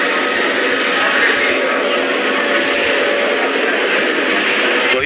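Airplane engine droning loudly and continuously inside the cabin, a steady broadband roar with no change in level throughout.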